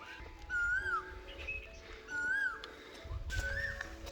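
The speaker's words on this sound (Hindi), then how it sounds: "पीछे जो पक्षी की आवाज़ आ रही है ना," Birds sing in a Pahadi hill village, clear rising whistled phrases repeated several times at moderate distance over a quiet background.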